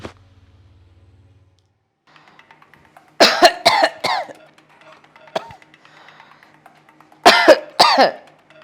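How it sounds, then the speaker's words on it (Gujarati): An older woman in a family drama coughs in two harsh clusters of three or four coughs each, close and loud, with quiet room tone between them. "કેમ આટલા બધા ખાંસી રહ્યા છો?"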